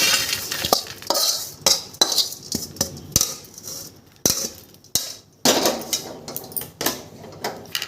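Hot rajgira chikki mixture is scraped and pressed into a tray, with sharp metallic taps and knocks of a spoon against metal in an irregular rhythm, close and fairly loud, between soft scraping.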